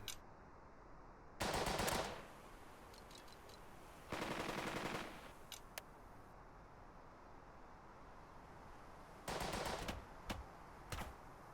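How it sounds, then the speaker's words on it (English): Thompson submachine gun bursts in the WW2 video game Burden of Command: three loud, sharp automatic bursts separated by quiet stretches, with a few isolated single cracks in between. "I will fix them all with my Thompson."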